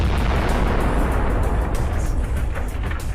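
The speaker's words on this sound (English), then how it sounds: "The explosion was so powerful that the tank's turret was blown off." A kamikaze drone strikes a tank's stored ammunition, setting off a powerful explosion; a loud, sustained roaring blast rumbles continuously throughout, with no speech.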